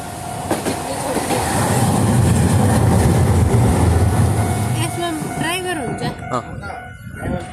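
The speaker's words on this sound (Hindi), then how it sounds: "कितनी छोटी सी मस्त सी क्यूट सी ट्रेन, ये रही आ गई" A small train passes close by with loud rumbling, clickety-clack of wheels and some squeal, the sound fading toward the end while a person talks over it.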